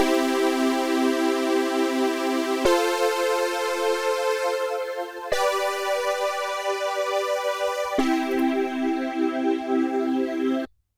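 A bright, brassy synth plays four sustained chords in a slow I-IV-V-I progression, each held about two and a half seconds, steady and loud with no voices.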